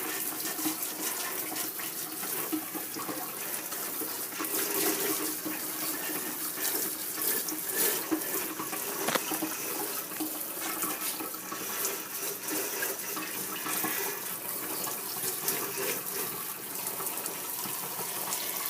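A kitchen sink tap runs steadily and close by as vegetables and herbs are washed under the stream, with a constant gushing hiss throughout.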